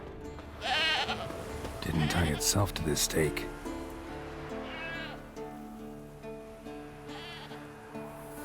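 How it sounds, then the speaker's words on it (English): A goat bleats in The Witcher 3 with a rising, wavering cry near the start and shorter calls later, under a voice and game music. "A goat. Interesting."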